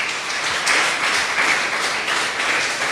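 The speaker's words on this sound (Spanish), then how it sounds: "Dele un fuerte aplauso al Señor en esta mañana." A church congregation applauds steadily, a dense wash of many hands clapping at moderate loudness for a few seconds without a break.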